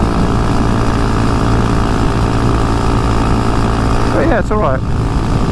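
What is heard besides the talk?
2022 Honda Monkey motorcycle engine with Termignoni exhaust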